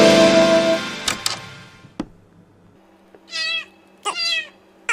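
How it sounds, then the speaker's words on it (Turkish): A domestic cat meows twice in a quiet room, each call drawn out and clear, following some louder noise and a sharp knock at the start. "Ah, bu kedi de nereden çıktı şimdi?"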